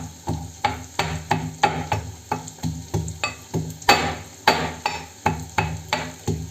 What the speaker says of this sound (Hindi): ये कूट रही हूँ मैं यहाँ पे लहसुन